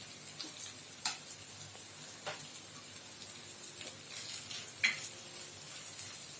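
Tomato rice being stirred in a frying pan, with soft scraping and faint sizzling plus a few light utensil clinks, quiet and close, no talking.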